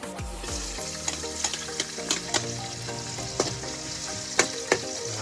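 Dalag (snakehead fish) fries in a pan, giving a constant hissing sizzle broken by scattered sharp pops and occasional clinks from stirring, with no talk.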